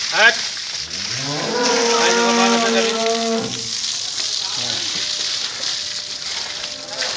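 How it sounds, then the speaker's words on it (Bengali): A heifer on a cattle farm lets out a long, loud moo with rising and falling tone, followed by a second shorter call, close by against a background hum. "ফার্স্ট ক্লাস একটা বকনা গরু"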